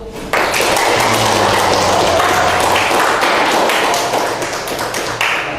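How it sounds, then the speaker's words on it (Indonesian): An audience claps steadily during a classroom academic supervision session, a dense, continuous patter of applause that stays loud from start to finish with no talk over it. "Dikasih aplaus."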